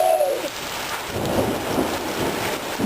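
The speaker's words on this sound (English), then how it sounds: "Here comes the thunder." Thunder rumbles low and distant through a steady downpour in a rainstorm, the rolling boom swelling under the constant hiss of nearby rain.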